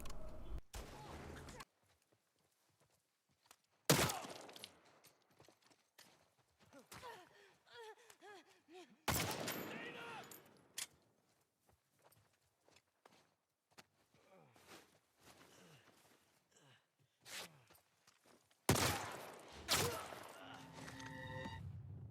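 Gunfire in the video game The Last of Us Part II Remastered comes in a few loud, sharp bursts separated by quieter stretches of footsteps and gasps from the characters.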